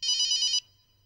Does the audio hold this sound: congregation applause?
no